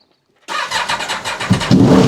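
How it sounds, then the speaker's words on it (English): An Aprilia RSV4 motorcycle with a non-standard end-cap exhaust fires up from cold in a garage after a moment of silence, catching at once into a loud, close, lumpy idle that swells with a couple of blips toward the end. "let's have a cold start on the Aprilia RSV4"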